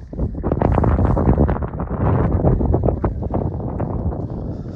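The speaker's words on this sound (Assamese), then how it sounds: "বতাহটো বহুত মাৰিছে" Strong mountain wind near Sela Lake in Tawang batters the microphone with a loud, steady roar that surges in gusts. No voices are heard.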